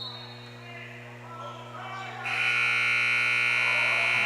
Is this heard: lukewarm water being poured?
no